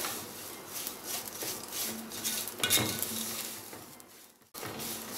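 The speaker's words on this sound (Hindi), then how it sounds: "सवैयों को थोड़ी देर फ्राई करेंगे, इनका रंग जो है हल्का सा चेंज हो जाए।" Vermicelli frying in a pan for milk sevaiyan, with a utensil scraping and clinking against the metal as it is stirred, soft patter of frying beneath, a louder scrape midway and a brief drop near the end.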